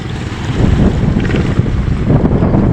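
A boat out at sea in rough weather, with a loud, steady low rumble and rushing wash of water and wind buffeting the microphone, continuous and close, with no voices.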